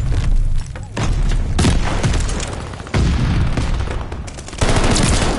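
A sticky bomb goes off amid gunfire in a Call of Duty Vanguard Hardpoint match, with several loud booming bursts and dense rapid shots continuing almost without a break.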